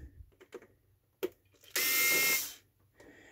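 A power screwdriver whirs for under a second as screws come out of a BT phone line simulator casing, with faint clicks and handling taps before and after, close and quiet otherwise.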